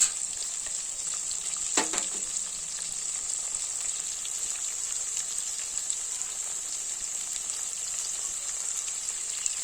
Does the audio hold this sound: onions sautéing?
yes